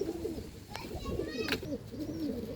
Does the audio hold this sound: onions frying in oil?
no